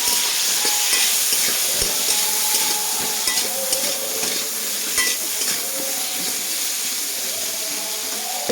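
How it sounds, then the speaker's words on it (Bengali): Bitter gourd pieces fry in hot oil with salt and turmeric, giving a loud, continuous close-up sizzle broken by the scrape of a stirring spatula. "একটু নুন দিয়ে দেবো, আর একটু দিয়ে দেবো হলুদ। এটাকে আমি ভেজে নেব।"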